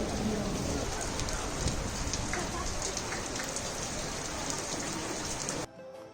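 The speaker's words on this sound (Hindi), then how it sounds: "बहुत तेज बारिश हो रही है." Heavy rain pours down steadily at an outdoor street market in Amsterdam, a dense, loud, even hiss of drops on surfaces that cuts off abruptly near the end.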